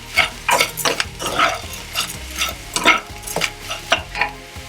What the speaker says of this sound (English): So I've got 250 grams of long grain rice. Just give that a quick stir through.